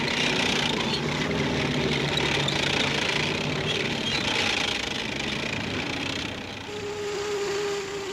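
A tractor fitted with a logging winch runs in a 1944 logging operation where logs are skidded to cutting machines. The engine keeps up a steady mechanical drone, then quiets briefly near the end.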